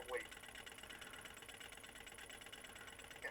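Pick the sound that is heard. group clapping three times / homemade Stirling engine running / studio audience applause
homemade Stirling engine running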